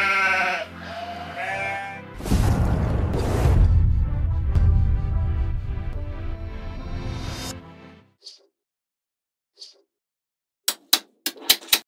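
Sheep bleat nearby in a few short, wavering calls at the start, followed by a louder, rougher stretch of noise that trails away into near silence broken by several sharp clicks.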